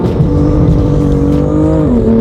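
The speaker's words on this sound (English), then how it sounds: "It'll just bounce off the limiter, which is insane." A BMW M2 engine sits pinned at the rev limiter in first gear, a loud, close, steady buzzing drone that stutters rhythmically as it bounces off the cutoff, with no talking.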